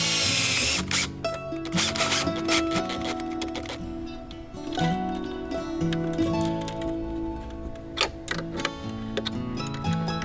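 A self-tapping screw is driven by power driver into the metal seat base to ground an auxiliary battery, giving repeated close whirring bursts and ticking clicks from start to end.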